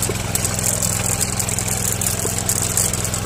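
A Yanmar AP4 rice transplanter's engine idles steadily, a constant mid-low mechanical drone with a faint rhythmic chug, close by and loud, with no one talking.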